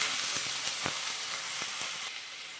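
Thin slices of coconut fry in a tablespoon of hot ghee in a kadai, giving a steady close sizzle with small pops and light stirring scrapes.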